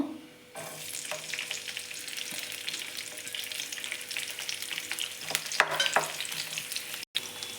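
Chopped onions, green chillies and garlic fry in a pan with a steady, close sizzle. Occasional stirring scrapes sit on top, a sharp clatter comes near the end, and no voice is heard.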